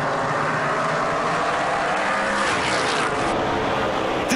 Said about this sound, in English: Love hearing those NASCAR Pinty Series engines,